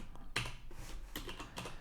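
Typing code in Visual Studio 2019 on a computer keyboard, with a handful of distinct key clicks in an uneven rhythm, close and quiet, with no talking.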